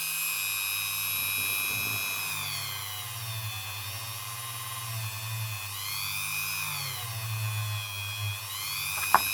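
A Dremel rotary tool grinds the inside of a ring made from a five kronor coin, a steady high whine with a low motor hum whose pitch wavers as the bit loads and eases, running continuously for about nine seconds.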